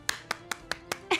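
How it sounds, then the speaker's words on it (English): Preschool children clapping fast in unison, five quick sharp claps in an even rhythm followed by a brief cheer-like burst, close and fairly clear. "Now let's clap fast."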